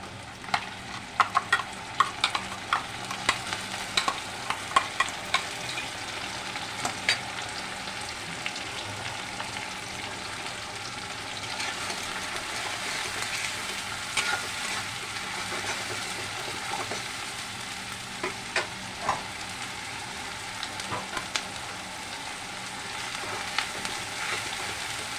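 Onion paste and lightly fried onions sizzle steadily in a hot pan for chicken kosha, a dense continuous frying hiss broken by sharp clicks and scrapes of stirring, close and with no voices.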